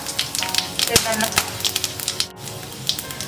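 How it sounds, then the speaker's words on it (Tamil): Whole spices such as fennel, cloves, cinnamon, bay leaf and cardamom sizzle and crackle in hot oil in a kadai for a mutton paya gravy, a steady close spitting with sharp pops throughout. "இது கூட வந்து நான் எல்லா ஸ்பைசஸும் ஆட் பண்றேன்."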